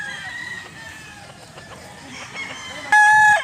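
A rooster crows briefly and loudly at the end, after a stretch of quiet farmyard background and soft clucking.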